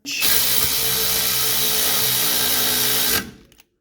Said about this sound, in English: And we'll torque those down with a 19 millimeter.